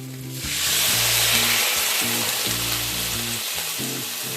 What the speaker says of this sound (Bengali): দু মিনিট ভেজে নেওয়ার পর এর মধ্যে আমি জল অ্যাড করে দিচ্ছি